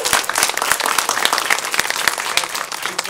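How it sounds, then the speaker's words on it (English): Graduation-ceremony audience applauding a graduate, dense steady clapping from many hands filling the whole stretch at fairly close range, with no voices standing out. "Let's give him a round of applause"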